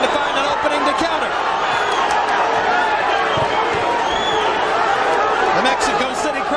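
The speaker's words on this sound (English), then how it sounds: "The Mexico City crowd on its feet as Guty comes alive." A Mexico City boxing crowd on its feet during Erik Morales versus Guty Espadas Jr, a steady, loud roar of cheering and chatter filling the arena throughout, with a commentator talking over it.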